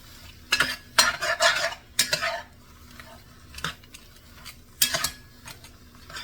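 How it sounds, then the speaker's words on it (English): A spoon scrapes and clanks around a pot of crawfish stew with mushrooms and onions, in irregular close-up bursts of stirring separated by short quiet gaps, with no voices. "so we'll stir all of that goodness together"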